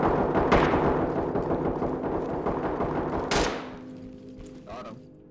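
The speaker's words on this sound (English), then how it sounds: "I'm gonna go shoot the guy down here quickly" Gunfire in the SWAT shooter game Ready or Not: a burst of rapid loud shots, then a single sharp blast, followed by fading echoes and a quieter electronic tone.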